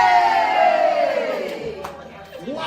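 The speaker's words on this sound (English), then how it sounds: "Well, the whole damn bus is cheering." An audience of care home residents cheering and shouting together in a long sustained roar that slowly fades, with a few whoops near the end.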